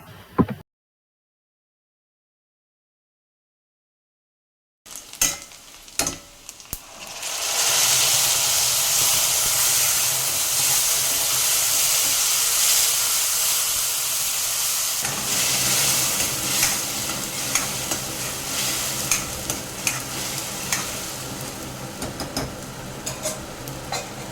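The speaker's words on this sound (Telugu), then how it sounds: "ఉల్లిపాయలు బాగా వేగిపోయిన తర్వాత మనం టొమాటో ప్యూరీని వేసేసుకోవాలి." Tomato puree fries with onions and masala in a pan for mushroom biryani, a steady loud sizzle with stirring scrapes that starts after a few seconds of silence and carries on alone.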